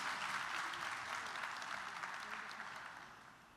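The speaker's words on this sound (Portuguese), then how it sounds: "Dê uma salva de palmas para o Senhor mais uma vez." A church congregation claps during a Portuguese-language service, a soft, distant patter of many hands that holds steady and then slowly fades away.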